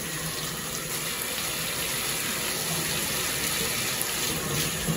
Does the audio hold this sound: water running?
yes